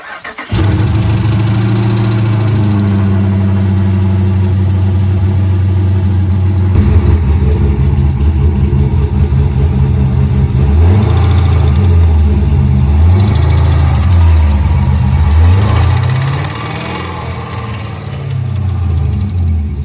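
A V8 car engine with a suspected bad cam bearing runs close and loud, first at a steady idle and then through repeated rises and falls in revs, with a harsh, rough mechanical undertone and no voices.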